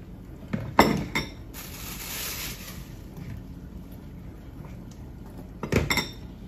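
Dough ingredients for chebureki (water, salt, pepper) being mixed in a bowl, with a few sharp clinks of a utensil against the bowl near the start and end over a soft steady background.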